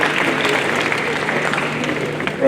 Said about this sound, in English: Let's clap for you. Let's clap for you.